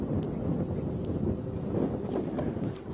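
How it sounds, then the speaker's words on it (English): Wind buffeting the microphone during a chilly sunrise safari drive, a steady, loud broadband rumble and gusting roar that persists throughout with no talk. "Welcome to a very chilly and windy sunrise safari here on Safari Live."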